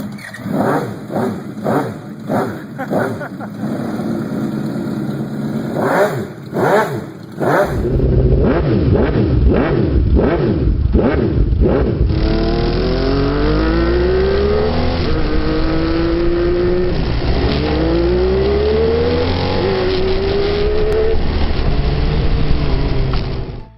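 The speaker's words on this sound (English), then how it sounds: "And, of course, the sound of the motorcycle. It's simply unique." A V8 motorcycle engine throbs with rapid pulsing revs, then settles into a loud, continuous roar that climbs through several gear-like rises.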